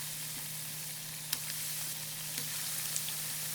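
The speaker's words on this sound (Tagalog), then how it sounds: "Pirituhin natin yung meatloaf into low heat hanggang sa mag-golden brown nito" Meatloaf pan-frying in oil over low heat, giving a soft, steady sizzle with a few faint pops, no talk.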